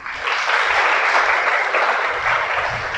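An audience at a church sermon breaks into applause, a dense burst of many clapping hands that holds steady for a few seconds at moderate distance.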